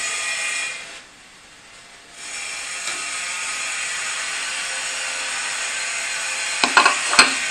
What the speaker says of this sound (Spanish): Perdona la obra, vaya la que están liando de ruido,